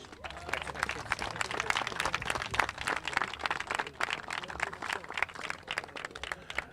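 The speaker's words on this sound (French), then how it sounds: "Une bonne main d'applaudissements, tout le monde." An audience at an outdoor art event applauds: steady, fairly dense clapping throughout at moderate distance, with crowd murmur mixed in.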